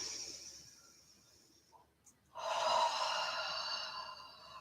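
A single audible breath drawn in during a live-streamed yoga class, brief and soft, followed by a louder rushing exhale or movement sound.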